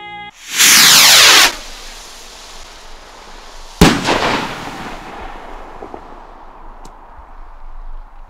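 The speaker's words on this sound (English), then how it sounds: "Do you mind if we set off this firework in the back garden?" A firework set off in a back garden: a loud rushing whoosh lasting about a second, then a sharp bang a few seconds later with a decaying echo and faint crackles afterward.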